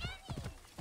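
Horse hooves clip-clop in the Assassin's Creed Origins video game, three or four soft, muffled beats at an even walking pace, close and low in level, brief and without any talk over them.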